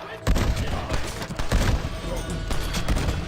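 Rapid bursts of gunfire from a Red Dead Redemption 2 trailer, loud and dense, with repeated sharp shots layered over a busy cinematic mix.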